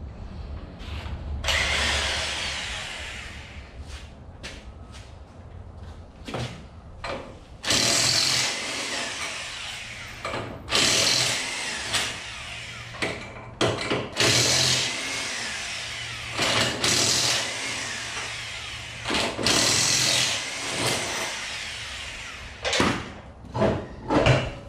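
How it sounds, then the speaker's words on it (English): An impact gun taking a wheel off a Hustler Super Z 60 mower in a workshop, with repeated loud bursts of hammering mixed with clanks and handling noise over about 25 seconds and no speech. "let's get our impact gun. Let's get the socket size that we need and get that tire off that mower."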